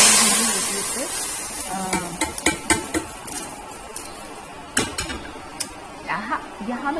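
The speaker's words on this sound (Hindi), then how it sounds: "तड़का जो है ना, इसकी मैंने ऑडियो तेज़ रखी थी" Tadka tempering cooked in a pan on a home stove: metal utensils clink and scrape against the pan in uneven bursts with faint sizzling beneath, while someone talks at times.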